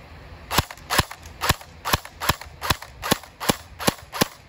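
A cheap Cybergun AKS-74U airsoft rifle, licensed by Kalashnikov, fires about a dozen sharp single shots at an even semi-automatic pace, each a loud close crack with nothing between shots.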